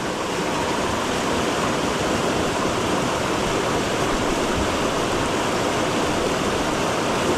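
Rushing water of the Dumacaa river roars steadily and loudly throughout, a dense, unbroken wash close by with no voices.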